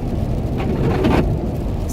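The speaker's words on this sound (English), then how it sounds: "Hear how horrible those wipers sound?" Worn car windshield wipers dragging across the glass during rain, a loud, rough, smeared rasp with faint squeaks, heard from inside the car over steady rain noise and road rumble.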